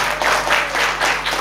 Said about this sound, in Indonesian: Sekali lagi beri tepuk tangan buat Tuhan.